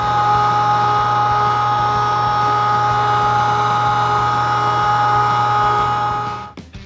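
A meat grinder runs the second grind of corned beef brisket and pork, a loud, steady mechanical motor whine and hum that holds level throughout and winds down in the last half second.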